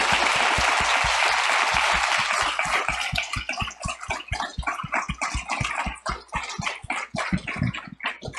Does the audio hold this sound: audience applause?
yes